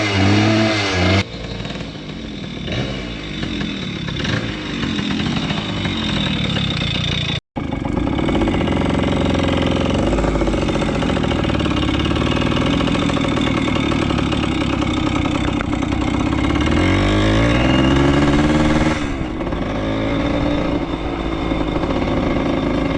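A kick-started motorcycle engine runs steadily for a long stretch, loud and close, with a rough mid-pitched idle that swells slightly into revs, broken once by a momentary dropout.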